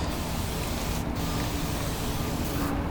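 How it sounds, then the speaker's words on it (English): Soapy solution sprayed onto a car panel before paint protection film goes on, a continuous loud close hiss of the spray bottle with brief dips between squeezes. "we want to make sure we add soapy solution all around the panel that you're going to be working on"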